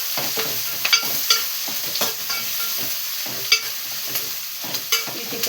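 Mustard seeds splutter in hot oil for a tempering, sharp irregular pops and crackles over a low sizzle, close and lively throughout.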